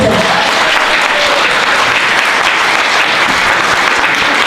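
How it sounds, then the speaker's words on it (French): A church congregation gives dense, sustained applause for Jesus during a morning service. The clapping is loud and continuous, with a faint hint of voices in the crowd. "Est-ce que tu peux acclamer pour Jésus ce matin?"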